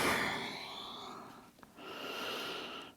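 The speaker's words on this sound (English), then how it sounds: "Breathing in through the nose and out through the mouth." Slow, audible breaths during a short yoga session for the hips: a long airy inhale through the nose, a brief pause, then a long exhale through the mouth, close and soft, with no speech.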